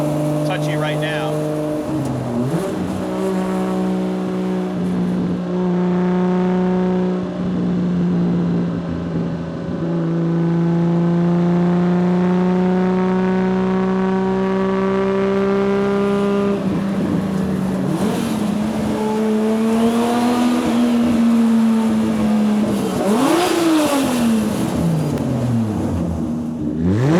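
A 1978 Datsun 280Z, fitted with a two-step launch control, drives and repeatedly accelerates, its engine note climbing through the revs in long sweeping pulls with a shift between them, loud and close inside the car.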